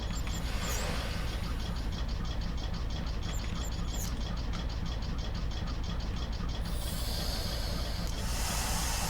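Train air brakes hiss inside the video game Garry's Mod, a constant loud hissing rush over a low rumble, steady throughout with no voices.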